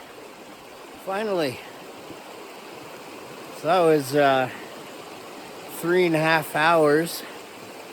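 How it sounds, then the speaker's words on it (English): Watchtower Creek, a mountain stream in the Watchtower Basin backcountry, rushes in a steady, broad wash from start to finish while someone speaks a few short phrases over it. "Yay! Watchtower Creek. Finally."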